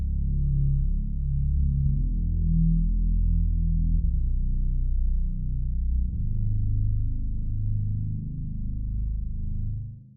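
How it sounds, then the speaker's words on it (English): Deep, soft yet rich synthesizer bass preset from the 8Dio 66 Basses library, built for cinematic mixes, droning steadily and loudly for about ten seconds with slowly shifting low notes and no talking. "one of the presets that I created for the library because it has that specific bass sound I use for most of my stuff"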